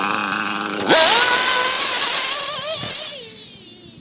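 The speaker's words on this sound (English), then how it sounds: "idle's kind of too low, because it's going to drop a little bit more as soon as it gets warmed up" A Novarosi Elite 5 nitro engine bursts into a loud, high-pitched buzzing run with a sharp rev at the start, holds a steady whine, then eases off toward a lower idle near the end.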